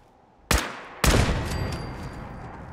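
Two sharp automated turret bursts in Fallout 4 ring out loud and close about half a second apart, the second trailing into a long echoing decay with a faint electronic whine, no talk over them.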